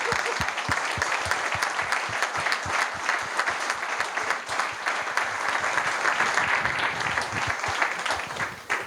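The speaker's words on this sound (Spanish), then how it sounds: "yo quería dar un aplauso al profesor Martí de parte de todo este público" An audience at a university lecture gives a sustained round of applause for a professor, dense, steady clapping that continues evenly throughout at moderate loudness, with no distinct voices.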